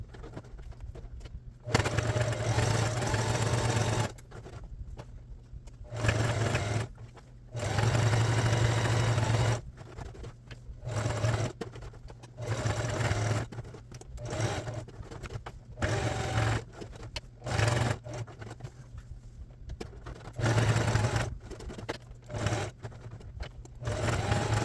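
Sewing machine running a zigzag stitch around lettering on a Reebok jersey, whirring steadily in repeated runs broken by short pauses, close and alone.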